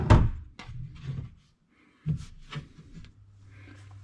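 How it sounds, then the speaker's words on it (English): A door is shut during cabinet-mounting work, giving a sharp close thump at the start, then a second thud about two seconds later, with faint shuffling and a low hum in a quiet room. "Shut that door."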